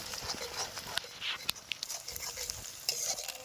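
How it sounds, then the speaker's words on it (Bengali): Onions and ginger paste fry in a pan during village cooking, with soft sizzling under repeated sharp scrapes and clicks of stirring, close and fairly quiet. "এবার আদা বাটা দিয়ে দেবো দিয়ে কিছুক্ষণ এটাকে ভেজে নেবো অল্প করে"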